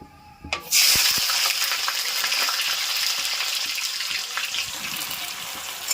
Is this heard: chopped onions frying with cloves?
yes